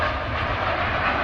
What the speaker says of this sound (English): we've got a Virgin Atlantic A350 landing now